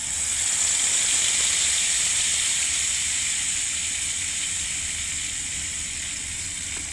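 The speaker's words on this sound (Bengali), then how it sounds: "ফোড়নে দিয়ে দিলাম সরিষা বাটা" Mustard paste sizzles in hot tempering oil while ash gourd is being cooked, giving a loud, steady hiss that fades slightly over several seconds with no talk.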